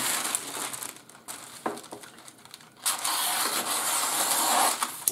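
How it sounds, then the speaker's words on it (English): Baking parchment being cut and crinkled in a kitchen while making bread, with close crackly rustling, a few sharp snips early, then a sustained louder crinkle to the end. "I'm going to cut a piece of baking parchment"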